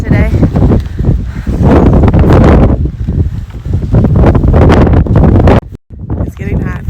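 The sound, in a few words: wind blowing on a hiking trail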